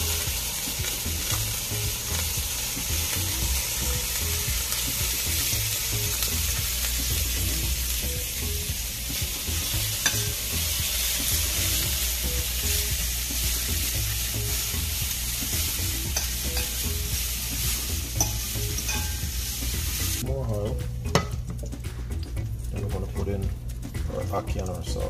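Scallion and pepper frying in a little oil in a pot for ackee and saltfish, a dense steady sizzle that runs close and loud for about twenty seconds before dropping to a thinner crackle with faint clatter.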